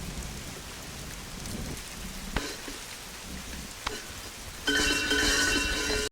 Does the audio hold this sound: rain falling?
yes